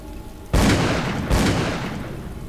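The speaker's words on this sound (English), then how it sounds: "there's gunfire all around you" Gunfire in the video game Call of Cthulhu: Dark Corners of the Earth, two heavy booming shots about a second apart over a continuous background din, each with a lingering decay.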